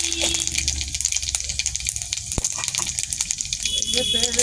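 Five-spice tempering crackles and sizzles in hot oil in a pan, a dense continuous frying hiss with sharp pops and one loud clatter, close and fairly quiet, with speech mixed in.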